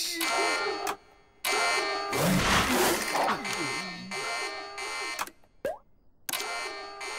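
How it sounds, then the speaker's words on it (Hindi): Cartoon alarm set off by a button press, a harsh electronic buzzing tone repeating in loud bursts with short gaps, broken midway by a noisy clattering burst and a brief swooping effect. "मैं ये बटन दबाता हूँ तो अचानक से अलार्म क्यों बज रहा है?"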